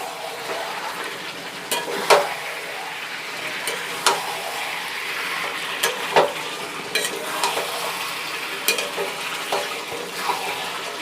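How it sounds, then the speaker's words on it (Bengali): Potatoes and chicken stir-fried together in a pan for a dry curry, a constant sizzle punctuated by repeated spatula scrapes and knocks at an uneven rhythm, close and fairly loud, no talking. "আজকে মাংসটা কষা কষাই করবো,"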